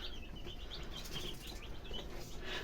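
Quiet outdoor ambience with sparrows chirping faintly in scattered bursts, along with soft fluttering and no voices.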